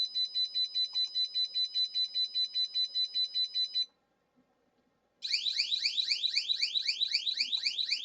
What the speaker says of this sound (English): Sounds like a car alarm or